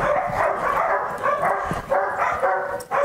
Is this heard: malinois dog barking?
yes